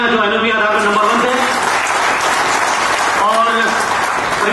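An audience at an LIC seminar applauds the month's top performer with loud, dense clapping that holds steady throughout while a voice carries on over it.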